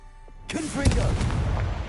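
A sudden loud fiery blast from the Confringo spell in the Hogwarts Legacy video game, booming in after a short quiet lead-in and rumbling on with crackling debris; a voice shouts just before the burst.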